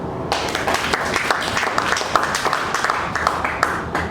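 A church conference audience applauds for Jesus, a dense spread of many hands clapping at once, steady and moderately loud with a few voices mixed in.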